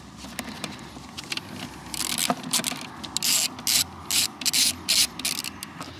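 A hand ratchet undoes screws on a Vespa GTS 300 scooter, first as faint sparse clicks, then as loud rapid ratcheting bursts that come in repeated short strokes close up.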